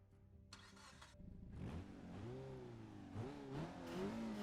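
A car engine starts in the Forza 6 racing game, cranking and catching, then revving up and down with rising, falling pitch, fairly close and clear.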